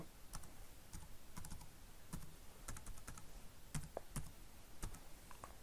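Fast, irregular clicking of keys as a password is typed on a computer keyboard, a steady burst of short taps with brief pauses, close by and moderately quiet.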